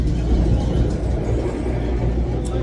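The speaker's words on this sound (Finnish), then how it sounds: "Juna-asemalla ollaan." Low, steady rumble of a train station, with a constant deep hum of engines and rolling rail traffic filling the space, no clear voices.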